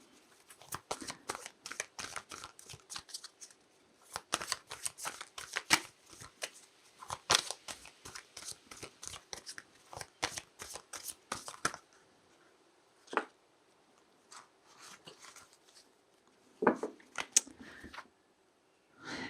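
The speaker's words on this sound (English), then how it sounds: "I'm going to have to keep shuffling until I get the right card for you." Tarot cards being shuffled by hand in a series of quick riffling, flicking bursts that run almost continuously for about twelve seconds, then pause and resume with a few sparse, separate shuffles near the end.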